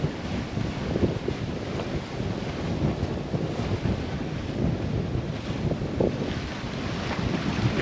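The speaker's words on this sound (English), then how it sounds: "the wind has really piped up." Strong wind roars across the microphone aboard a sailboat in the British Virgin Islands, a steady loud broadband rush with water and hull noise beneath, sustained throughout without speech.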